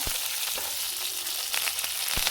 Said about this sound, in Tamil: ஒரு துண்டு இஞ்சி சேர்த்துக்கோங்க நல்லா கிண்டி விட்டுக்கோங்க